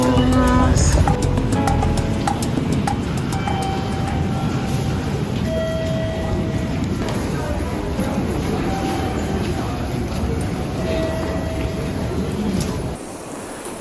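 Steady rumble and rattle of a public-transport train travelling across Japan from Takayama, a continuous close interior ride noise with faint high tones and squeals, ending abruptly near the end.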